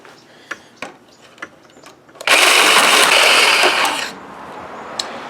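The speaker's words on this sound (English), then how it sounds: "I'm using a diamond blade to cut this in my jigsaw" A jigsaw fitted with a diamond blade cuts O-1 tool steel for a homemade knife. A loud, dense, harsh buzz starts abruptly midway and runs steadily for about two seconds before dropping back to faint clicks and handling noise.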